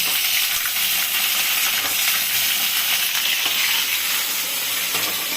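Eggplant pieces fry in hot oil for a prawn, cauliflower and eggplant curry, giving a loud, steady, close-up sizzle that stays constant throughout.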